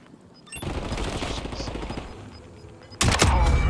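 Gunfire in the video game Warzone: a rattling burst of rapid shots lasts a few seconds, followed by a sharper, louder volley near the end, close and harsh with no speech over it.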